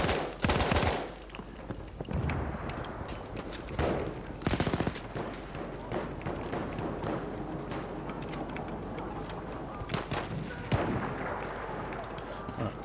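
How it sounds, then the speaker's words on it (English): Machine gun fire in Battlefield 1, with a loud close burst at the start and then scattered shots and rattling fire over a dense battlefield din, while a voice speaks intermittently. "Machine gun right there."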